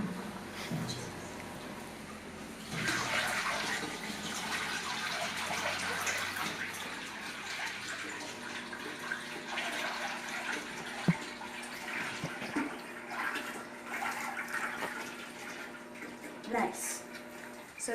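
Water poured into a cooking pot with tamarind syrup and sugar, a steady gushing splash lasting many seconds at moderate level with faint background noise.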